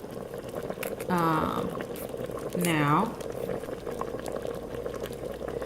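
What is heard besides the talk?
pot of liquid boiling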